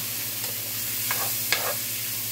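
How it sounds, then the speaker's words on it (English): A soup mixture in a pot is stirred, with a few soft scraping swishes over a steady hiss of background noise, close and fairly quiet. "We're just gonna stir that up."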